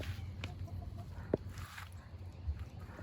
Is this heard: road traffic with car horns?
no